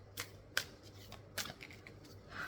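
Tarot cards shuffled by hand during a reading, giving a few short papery riffles and snaps spaced irregularly over a low steady hum, quiet and close.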